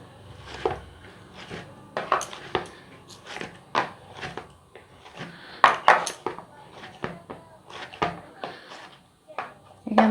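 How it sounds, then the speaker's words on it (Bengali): Metal pot lid being lifted off after steaming rice flour and maida puli pitha dough, with clattering knocks and clinks of cookware under someone talking nearby. "এবার ঢাকনাটা খুলে নিচ্ছি"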